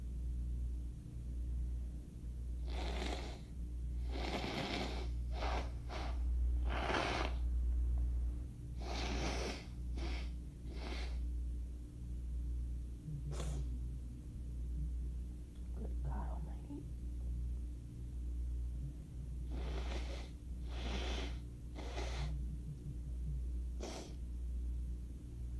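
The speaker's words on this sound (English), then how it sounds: "I need to blow my nose." Several bursts of nose blowing into a tissue during an allergy attack, some long and some short, with breathy sniffs between them over a low steady hum.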